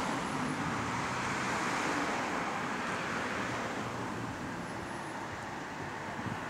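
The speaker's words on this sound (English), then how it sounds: "it doesn't sound like a bus engine. It sounds like a car engine." Diesel engine of a GAL WS60 bus with a Daimler engine, heard from on board on a route: a steady, broad running drone that holds close and fairly loud throughout, with no talk.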